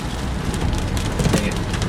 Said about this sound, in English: Getting some rain.